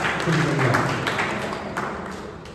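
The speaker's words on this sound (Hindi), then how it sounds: "जोरदार ताली के साथ" Crowd applause at a Hindi book launch event as a performer is invited to the stage, a dense, steady wash of clapping that gradually thins and softens over a low background hum.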